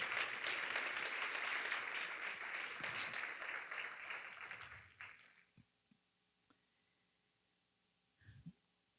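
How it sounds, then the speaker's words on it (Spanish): A church congregation gives a full, loud round of applause that fades out after about five seconds, leaving a quiet room with a few faint thumps and rustles. "Ofréndele un buen aplauso al Señor ahora"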